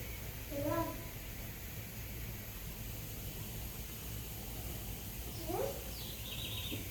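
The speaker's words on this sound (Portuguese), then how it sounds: "Não sei se tá dando pra vocês ouvirem o barulho dos passarinhos tão bonitinhos," Faint bird chirps over steady background noise, a short burst near the start and another later, distant and soft.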